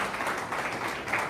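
A brief burst of dense audience clapping from a gathering at a live-streamed wellness event, steady and crowded, with no pause.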